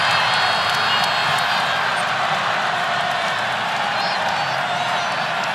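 Basketball arena crowd at a Georgia Tech game against Virginia roars in a sustained, loud wall of cheering and whoops that holds steady throughout, with scattered claps and shouts mixed in.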